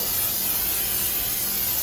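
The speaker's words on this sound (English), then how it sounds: "I'm going to give that a nice spray with my cooking spray" Cooking spray hisses steadily onto a sheet pan in a home kitchen, one continuous close spray lasting under two seconds with no talking.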